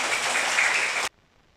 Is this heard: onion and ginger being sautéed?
no